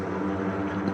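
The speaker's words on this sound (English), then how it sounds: "I've got my Batman strings down here" Dark, dense orchestral strings sample in a brooding Batman movie style, a thick low sustained swell that holds steady for a second with no break and no voices.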